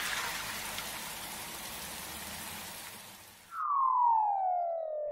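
A Pocoyo toy playset plays a rain sound effect, a steady patter of rainfall that cuts off abruptly and gives way to a descending electronic tone.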